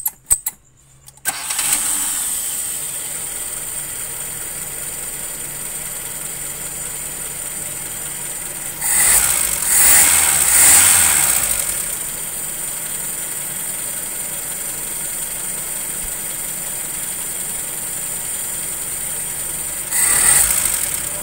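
A car engine cranks and catches near the start, then settles into a steady, close mid-pitched idle with a high whine, briefly revving louder twice before returning to idle.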